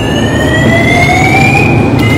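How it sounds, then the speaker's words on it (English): During an alarm drill, a loud, unbroken siren-like alarm wails on, its tone gliding gradually upward over a harsh, noisy bed of sound. "Let the alarm stop."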